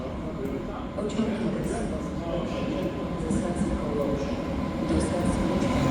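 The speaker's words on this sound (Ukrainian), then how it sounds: "Прибуває наша електричка." An electric commuter train rumbles steadily close by, a dense low roar with faint metallic squeals on top, swelling slightly as it pulls into the station; voices murmur underneath.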